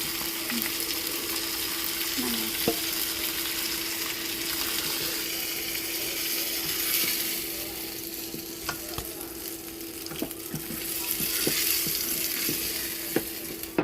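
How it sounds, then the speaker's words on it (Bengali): Fish pieces fry in oil in a pan, a continuous moderate sizzle punctuated by occasional utensil clicks and stirring scrapes throughout, with no speech. "সবগুলো মাছ উল্টে দেওয়া হয়ে গেছে, এবার অন্য পিঠে আর একটু ভালো করে ভেজে নেব"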